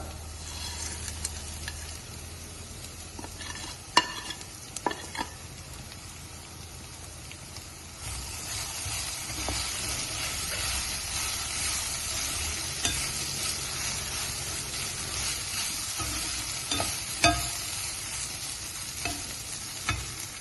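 Sliced okra (ladies finger) fries in a pan with a soft, steady sizzle, while a spoon stirs and scrapes at irregular intervals up close; no one speaks.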